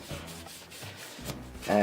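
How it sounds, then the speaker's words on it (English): A spalted oak top is hand sanded in a few short rubbing strokes, close and raspy, with a brief louder sound at the end. "very little bit of sanding"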